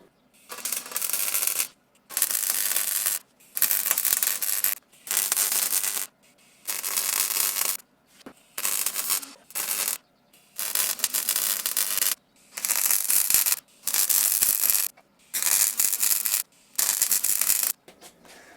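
Holes in a 1-inch steel box-section frame being welded up for a van step: about a dozen harsh, crackling bursts of a second or so each, separated by short silent gaps, close and loud.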